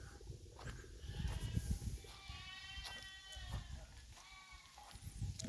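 Goats bleat several times at close range on a highland pasture, wavering cries rising over a soft outdoor background with faint rustling.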